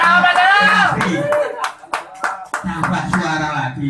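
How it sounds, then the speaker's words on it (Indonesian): A crowd claps hands at a political gathering with a legislator, a few scattered bursts of clapping mixed in among loud, close talking voices. "Aduh, tepuk tangan Pak Kala."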